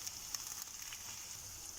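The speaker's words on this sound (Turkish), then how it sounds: "Karışımımı patateslerimin üzerine her tarafına gelecek şekilde döküyorum." Egg mixture poured over potatoes in a hot pan gives a faint, steady sizzling hiss that holds evenly throughout with no talking.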